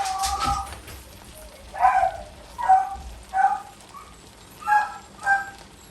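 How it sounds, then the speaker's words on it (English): Several dogs bark in excited bursts, five or six sharp barks spaced out over steady background noise, moderately close. "there's the dogs going crazy"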